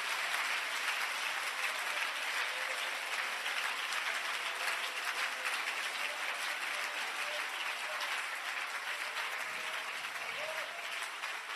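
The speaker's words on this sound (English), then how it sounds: "Let's give the Lord a hand clap for praise." A church congregation claps hands together in praise, a dense, steady wash of applause that holds at an even level throughout with no voices rising above it.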